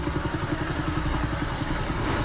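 A motorcycle engine idles steadily in a street setting, with a low, even chugging pulse that runs continuously and fairly close throughout, with no talk over it.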